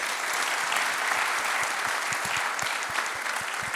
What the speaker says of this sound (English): So give a round of applause for the guys.